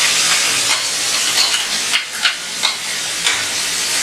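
Tomato puree sauce fries in a pan, giving a loud, steady sizzle and hiss with a few sharper spits and pops rising out of it, close up and without talk.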